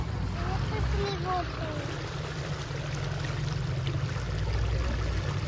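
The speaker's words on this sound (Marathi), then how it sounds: "कायाकिंग चालू हा." A kayak is paddled through a mangrove creek, with soft steady water swishing and trickling under people talking and a few bird chirps.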